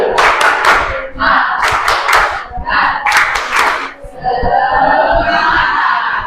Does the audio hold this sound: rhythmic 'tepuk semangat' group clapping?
yes